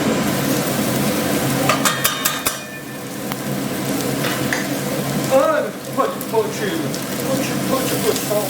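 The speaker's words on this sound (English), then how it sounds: "we will cut while these are sauteing away" Lamb kidneys sautéing in a pan for an Indian-style dish: steady sizzling with scraping stirs and clinks of utensil against pan, close and fairly loud, under occasional talk.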